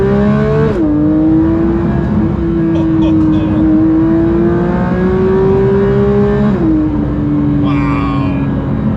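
Porsche 992 GT3 on Cup 2 tyres on a greasy B road, the flat-six revving hard toward 9,000 RPM with a loud rising wail, dipping at two gear changes and climbing again, heard from inside the car.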